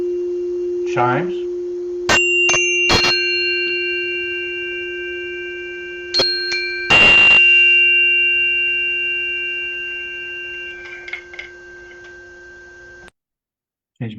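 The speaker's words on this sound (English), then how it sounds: "Chimes" Chimes ring in a few scattered metallic strikes, some bright and closely spaced, their pure tones lingering and overlapping before fading into quiet.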